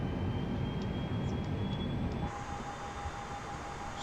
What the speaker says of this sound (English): So you can hear the engines roaring now.